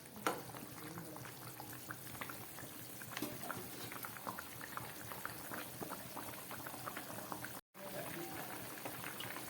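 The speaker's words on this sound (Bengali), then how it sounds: "মাছের ঝোলটা ফুটে উঠেছে" Fish curry with potato and green banana bubbling at a steady boil in a pot, a dense continuous bubbling and simmering texture with small irregular pops, close and moderately loud throughout.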